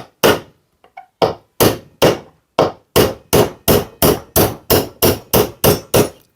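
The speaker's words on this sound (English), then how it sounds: "we're going to punch this nail in up to that line" A hammer drives a nail into a wooden joist, striking about fourteen sharp, close, loud blows in a steady rhythm that speeds up slightly, with short silent gaps between the hits.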